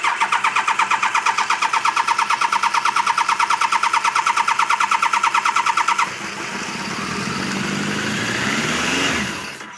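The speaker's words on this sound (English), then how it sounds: "Gonna have to crank a bit because fuel pump doesn't go until it cranks." A 1986 Voyager XII engine with a carburetor cranks in a fast, even pulsing rhythm for about six seconds, then catches and runs with a steady roar that swells slightly as it revs.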